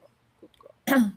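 One loud, abrupt sneeze bursts out near the end, after a short spoken phrase and a few faint indoor noises.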